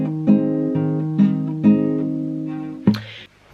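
Plucked acoustic guitar playing a repeating fingerpicking pattern for a song, notes struck in a steady rhythm every half-second or so with bright ringing sustain, ending on a sharper final strike before cutting off.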